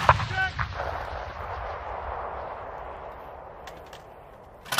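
An M777 howitzer fired by paratroopers in a GTA video game gives one loud boom at the start, then a long rolling rumble that slowly fades. A brief voice sounds near the start and faint clicks come at the end.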